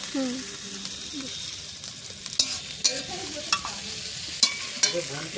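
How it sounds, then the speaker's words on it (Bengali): Freshly harvested Pokhraj potatoes and home-grown onions fry in a pan, with a soft, steady sizzle. A spatula scrapes and clinks against the pan in irregular strokes as the mixture is stirred. "আলু আর পেঁয়াজটা একসঙ্গে ভাজা ভাজা হয়ে যাবে।"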